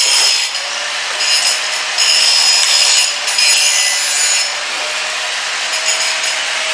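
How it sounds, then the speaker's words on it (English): Welding a crack in metal, a close, steady harsh crackling buzz that swells and eases in a few long passes, continuous with no talk. "I'm welding in a crack"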